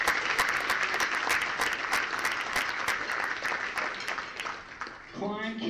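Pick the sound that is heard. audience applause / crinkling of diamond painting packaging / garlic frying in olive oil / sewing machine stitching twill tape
audience applause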